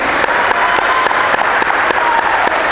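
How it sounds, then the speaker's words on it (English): Loud, dense applause from a live audience cheering a basketball coach at a podcast taping, steady clapping sustained without a break and no voices standing out. "Everybody give Coach Sam a round of applause, please."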